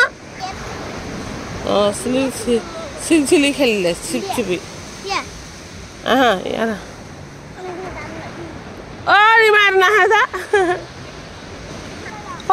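Ocean surf at the seashore rolls as a continuous background wash while children chatter over it in bursts, the waves heard most clearly in the pauses between voices.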